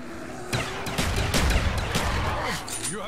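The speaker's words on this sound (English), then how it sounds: "Spamming the crap out of these pistols." Rapid pistol gunfire from a Call of Duty zombies game on the Ascension map: a dense burst of repeated sharp shots with explosive booms and game effects, loud and continuous throughout.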